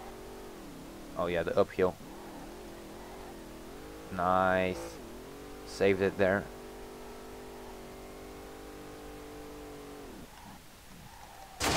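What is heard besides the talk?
car engine revving while drifting downhill, video game SLRR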